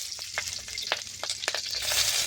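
Onions fry in hot oil with bay leaves for a fish dish, giving a bright, hissing sizzle that swells near the end, with scattered crackles and a few stirring scrapes.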